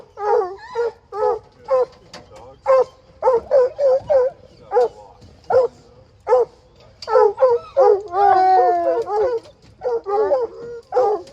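Hunting hounds at a horse-and-hound bear hunting camp, barking in a steady run of close, loud yips and bays with a longer howling stretch midway, with no talk over them.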